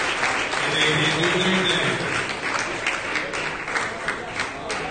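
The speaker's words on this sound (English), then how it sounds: "how about a big round of applause for both these guys in the ring?" Ringside crowd at a live boxing event applauds both fighters, a dense, loud wash of clapping and cheering with voices mixed into the noise throughout.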